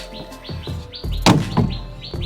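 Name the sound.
captured pigeon calling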